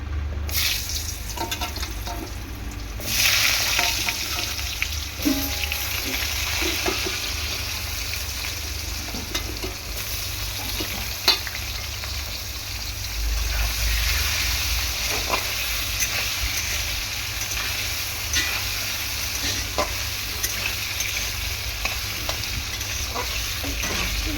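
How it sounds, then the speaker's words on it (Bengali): Cut potatoes frying in hot oil with bay leaves and dried chili in a home kitchen pan, a loud continuous sizzle with crackles and occasional stirring scrapes, no voices. "আলুগুলো প্রথমে এরকম ভালো করে তেলে ভেজে নেব।"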